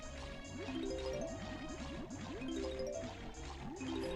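A walrus sound effect from the Banjo-Kazooie video game plays as a rapid series of short, bubbly, rising burbles, repeated in quick bursts over a busy game music background.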